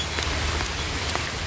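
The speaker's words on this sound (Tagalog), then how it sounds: "Ang aga naman na bumagsak yung ulan" Steady rain falling on surfaces outdoors, a dense, even hiss with scattered close drops, no voices.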